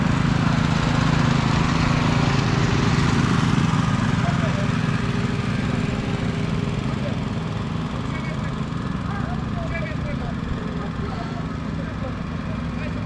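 A blower machine roars steadily as it blows dust off a road before road marking is applied. The drone stays loud and unbroken close by, with people talking faintly under it.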